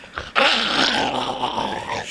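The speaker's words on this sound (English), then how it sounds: "She just started snarling at me." A woman snarls and growls in an audio drama sound effect, one sustained rough, throaty growl that starts abruptly after a brief catch and holds loud and close for about two seconds.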